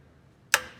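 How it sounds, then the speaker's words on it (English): A single sharp mechanical click as the head of a brake lathe is reset, one short crisp snap that decays quickly against a quiet shop background. "I'm resetting the head right now. One click."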